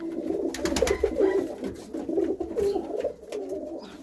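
Pigeons coo repeatedly close by, their soft throaty calls overlapping in a steady rhythm with brief rustles between phrases, and no talking.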